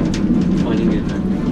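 Rainwater falling and splashing inside a 760-foot-deep coal mine, a dense, loud, continuous patter and rush of water heard close by, with a low rumbling hum beneath it.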